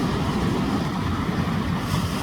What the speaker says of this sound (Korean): 힘차게 부서지는 파도 소리를 즐기며 해가 떠오르기를 기다립니다.